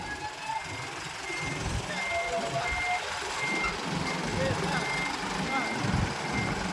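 An air-brake vehicle backs into a parking space on a practical driving course, its reversing alarm beeping faintly and steadily over engine rumble and outdoor noise, with voices talking nearby.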